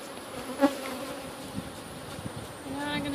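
Honeybees buzz steadily around an opened hive during a split, a close, continuous hum with brief louder passes, alone without speech.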